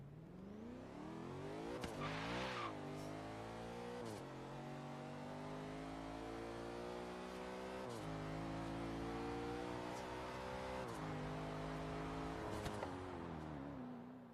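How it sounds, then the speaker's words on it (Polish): A turbocharged Lexus with a non-original engine in a racing video game revs and accelerates, its engine pitch climbing through repeated gear shifts with brief drops between, loud and continuous with a faint tire squeal. "posłuchajmy sobie troszkę dźwięku Lexusa"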